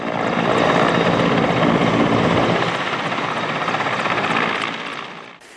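An Mi-8 helicopter flies during a search-and-rescue exercise over the Black Sea, its loud, close rotor thrum and turbine roar filling the air steadily before fading slightly at the end.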